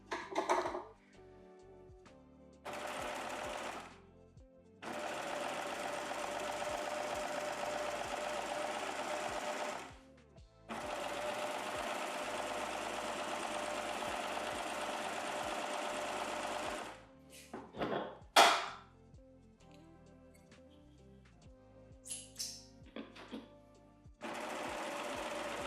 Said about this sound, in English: This is a 4-thread overlock stitch. So I'm using both needles as well as both loopers in my serger.